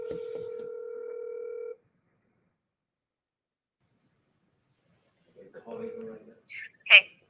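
A phone call is dialed: a steady electronic tone holds for under two seconds, then stops. A long silence follows, and then a few faint, brief chirps and blips.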